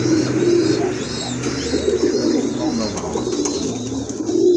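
American Lakha pigeons coo nearby in low, throaty, rolling calls that overlap continuously.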